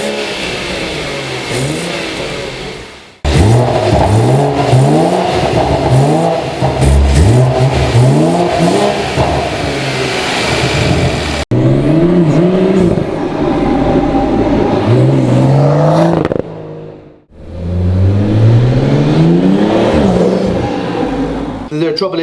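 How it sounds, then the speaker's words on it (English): BMW M140i/M240i/340i/440i engine fitted with a Pipercross V1 carbon airbox, revving hard in repeated loud bursts that climb and fall, with brief gaps between runs; a voice talks over parts of it. "we will show you a before revving of the engine"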